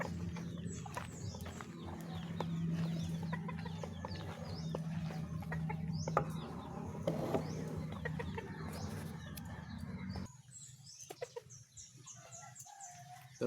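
A chicken about to be slaughtered clucks close by amid ongoing farmyard bustle and scuffling, with the background dropping quieter near the end.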